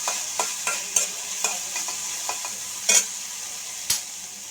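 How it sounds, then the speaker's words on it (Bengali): Bottle gourd seeds fry dry in hot oil with a soft crackling sizzle, punctuated by repeated sharp scraping knocks of stirring in a regular, close rhythm. "এটা তেলের মধ্যে ভাজা ভাজা হচ্ছে"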